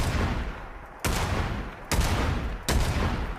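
Three heavy single rifle shots from the M2045 mod in Fallout 4, spaced under a second apart, loud and close, each with a sharp crack and a broad, lingering roar behind.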